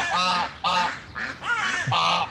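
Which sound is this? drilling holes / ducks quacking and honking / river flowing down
ducks quacking and honking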